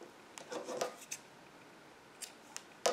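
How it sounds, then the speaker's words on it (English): Scissors snip through crochet yarn during a color change, a few faint close snips and rustles spread across a quiet moment, with a sharper cut near the end. "And then cut the previous colored yarn."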